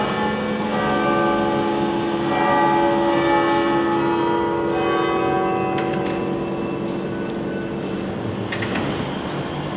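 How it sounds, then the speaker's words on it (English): Church bells ring in a sustained, overlapping wash of resonant tones that swell and linger across the full stretch, steady and fairly loud with no talking. "Oh, the bells."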